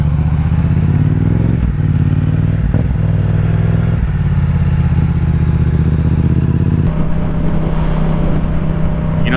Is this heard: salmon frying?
no